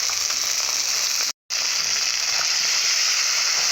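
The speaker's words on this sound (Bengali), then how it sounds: "মাছগুলো এইভাবে ঘেঁটে দেবো" Fish frying in a pan, stirred around, gives a steady loud sizzle with a brief full dropout in the first half before the crackle resumes unbroken.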